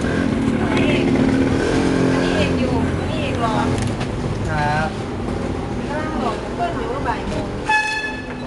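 A car drives through street traffic, its engine noise running steadily underneath while horns toot several times nearby and people talk over it.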